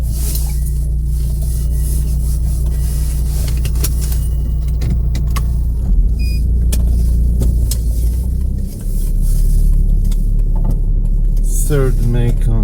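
A car being driven on local roads produces a steady, close engine and road rumble that continues throughout, with faint rattles and small knocks inside the cabin.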